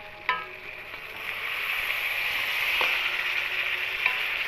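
Crab curry simmers in a pot, bubbling and sizzling steadily at moderate volume, with a sharp clink of a spoon against the pot near the start and another soft knock midway, and no talking.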